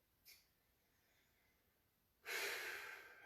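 Heavy breathing while holding a core brace during a glute-focused stretching workout, a faint breath near the start and a loud, sustained exhale at the end, close to the mic.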